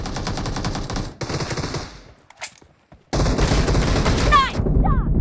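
Rapid bursts of shotgun fire ring out in the battle-royale video game PUBG (BGMI), loud close blasts in quick clusters, separated by a short quiet gap.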